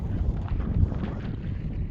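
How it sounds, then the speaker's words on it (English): Strong gusting wind buffets the microphone on the exposed summit of Mount Hood, a dense, roaring low rumble that swells and dips throughout, loud and close, with no voices. "this one was especially windy and tough to stay for long"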